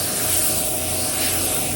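A spray gun lays candy pearl blueberry paint onto the doors of a 1984 C10 truck, giving a steady, close airy hiss that runs unbroken with no talking.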